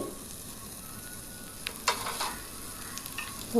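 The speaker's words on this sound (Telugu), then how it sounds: "ఇప్పుడైతే నాలుగు ఎండుమిరపకాయలు అయితే వేసుకుందాం తర్వాత కొద్దిగా కరివేపాకు అయితే వేసుకోవాలి" Dried red chilies and curry leaves fry in hot oil with a faint, steady sizzle, broken by a few brief crackles and spatters up close.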